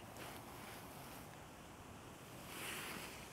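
Wind gusts buffet the microphone outdoors while fishing in winter, producing a steady broadband rush that swells near the end, faint overall with no talk.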